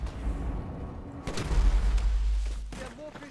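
Gunfire in the video game GTA V, a quick volley of muffled booming shots and thuds at moderate level, followed by a brief electronic tone.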